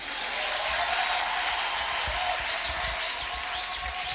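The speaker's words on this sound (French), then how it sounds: "Est-ce qu'on peut applaudir?" Church congregation at a sermon breaking into steady applause, a dense continuous patter of clapping with a few faint voices mixed in, fairly loud and filling the room.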